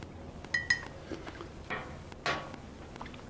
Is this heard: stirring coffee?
yes